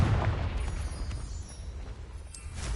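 The Confringo blasting spell explodes in a Harry Potter video game as a deep, rolling boom that swells at the start and again toward the end, heavy low rumble throughout, with no one speaking.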